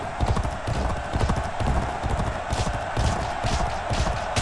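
Racehorse hooves pounding in the G1 Jockey 4 video game, a fast, driving gallop rhythm of heavy thuds repeating steadily and loud throughout, with no voices over it.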